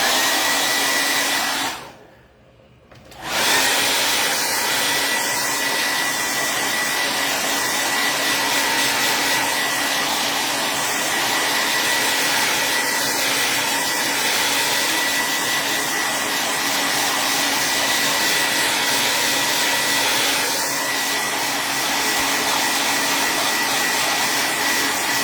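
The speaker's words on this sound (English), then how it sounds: "My blow dryer will probably be loud for a minute" A blow dryer runs loud and steady close by while drying chalk paint on a handmade patriotic craft sign, with one brief dip partway in, then an unbroken whirring roar to the end.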